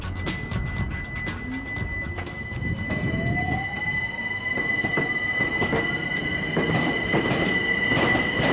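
A London Overground train rolls past at Richmond with steady rumbling and clattering wheels, a high squeal rising and a tone sweeping upward as it moves along the track.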